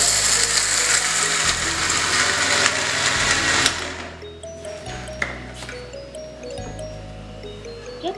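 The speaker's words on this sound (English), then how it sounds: "Have a look for how long I grinded it." An electric grinder pulses dry fruits into a fine powder for baby food, running in loud bursts of whirring motor noise that shift pitch between pulses before easing off toward the end.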